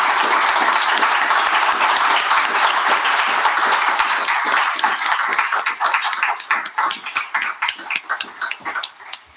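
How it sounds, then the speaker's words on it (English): A crowd applauds a lecture loudly and continuously, the clapping thinning into scattered individual claps toward the end. "Can we all give a round of applause for a brilliant lecture?"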